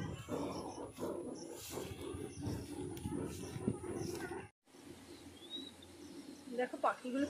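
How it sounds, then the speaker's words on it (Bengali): Baya weaver birds chirp around their hanging nests after a storm, with thin high calls and twitters heard faintly under wind and outdoor rustle; a person speaks during the first part. "দেখো পাখিগুলো কিচির মিচির করছে"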